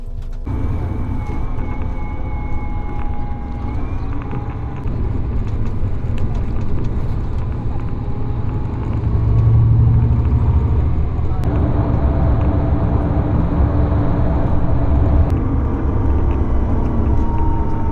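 Steady low interior rumble of a coach bus cruising on a motorway in Finland, a continuous broadband drone with engine and road noise filling the cabin, rising slightly midway, with occasional voices murmuring beneath.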